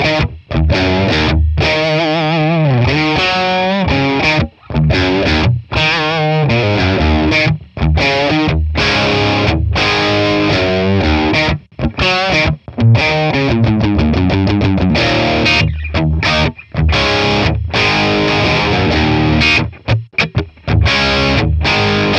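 Electric guitar played through a dimed Matchless Laurel Canyon amp capture, giving loud, driven rock chords and riffs with short gaps between phrases.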